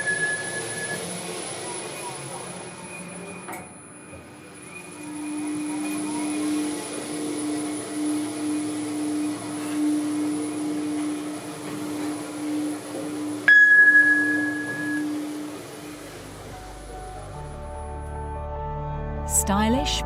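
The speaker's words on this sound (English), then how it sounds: "the ambient noise levels experienced at this installation when the lift is running at normal speeds in both the up and down directions" Quiet interior ambience of a passenger lift running at normal speed in a Mayfair townhouse, a steady low hum and faint whine with a few soft clicks and a brief chime-like tone near the end as it travels.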